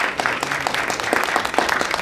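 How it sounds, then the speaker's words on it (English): Audience applause at a real estate speaker event, a dense, steady wash of many hands clapping close by for the full stretch with no talk over it. "So give a round of applause for Ed."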